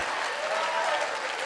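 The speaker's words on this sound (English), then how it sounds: "Give the old man a round of applause." A live motivational seminar audience in Las Vegas claps in a dense, continuous burst of applause that stays steady and fills the room throughout.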